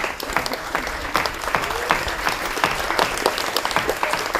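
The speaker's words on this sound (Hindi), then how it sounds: "आप भी थोड़ी करतल ध्वनि से इनका हौसला और बढ़ा दीजिए" Sustained audience applause at a Kabir stage performance by the Bhartendu Natya Academy, dense, steady clapping filling the whole stretch with a faint murmur of crowd underneath.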